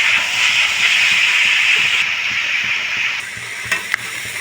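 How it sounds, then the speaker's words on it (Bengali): Jackfruit and potato pieces frying in hot oil in a pan, a steady close sizzle and hiss running throughout, with a few soft stirring clicks and scrapes near the end. "লাল লাল করে এঁচোড় আর আলুটা ভেজে নেবো আমি"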